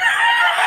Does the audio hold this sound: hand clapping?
no